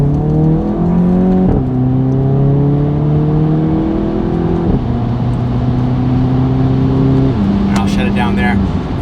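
A Volkswagen GTI with an MBRP 3-inch cat-back exhaust revs through several gear-like pulls, a loud close engine note rising in steps then dropping back, with a voice talking over it.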